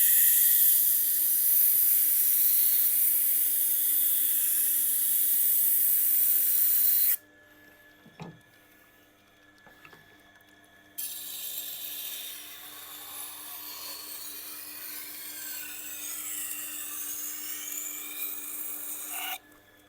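Kitchen knife sharpened on a Tormek T8 with a 320 grit wheel, a steady rasping grind that stops abruptly, followed by a few quiet clicks and handling sounds, then a softer scraping resumes.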